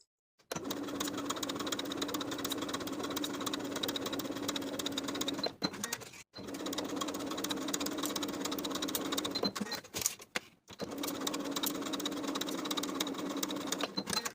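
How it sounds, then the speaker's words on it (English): A sewing machine runs a long basting stitch down both sides of a pair of elastic-waist shorts, whirring steadily in three long bursts with brief pauses between them. "with an increased stitch length, a basting stitch, we're going to sew both sides with a 1/4 inch seam allowance"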